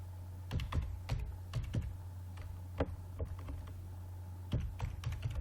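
Typing on a computer keyboard, scattered bursts of sharp clicks in short clusters with pauses between, close and fairly quiet over a low steady hum.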